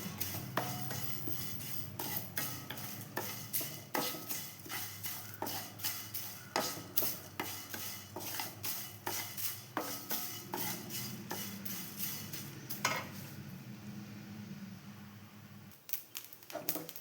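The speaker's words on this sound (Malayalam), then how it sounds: "കുറച്ച് ഉലുവി അപ്പോൾ ഇതും കൂടി ഒന്ന് വറുത്തെടുക്കാം നമുക്ക്" Curry leaves, fenugreek and cumin roast in a dry pan for tomato chutney, giving a faint, rapid series of dry clicks and scrapes as a spoon stirs, with a soft crackle beneath.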